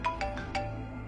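A mobile phone ringtone plays nearby: four short, bright electronic chimes in quick succession, fairly loud against a quiet room.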